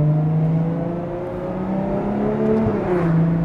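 Ferrari Monza SP2 engine and exhaust while driving, a close, steady engine drone with shifting tones as revs rise and fall slightly, heard alone without talk.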